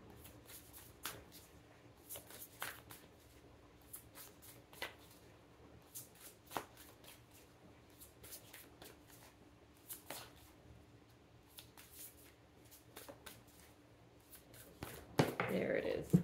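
A deck of cards is shuffled and riffled by hand, making repeated soft flicking bursts at irregular intervals over a quiet background, with a louder rustle at the end and faint talk.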